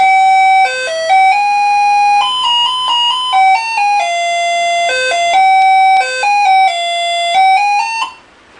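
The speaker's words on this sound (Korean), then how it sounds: "알람이 울립니다" An overtime counter clock's alarm plays a loud electronic chiming melody of stepped bell-like tones for about eight seconds, close and clear, then cuts off abruptly.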